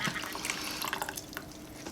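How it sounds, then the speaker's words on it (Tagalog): Water pours steadily into a cooking pot for tapioca pearls, a soft continuous splashing and trickling heard fairly faint and alone for a couple of seconds. "Tapos, ilalagay natin yung tubig."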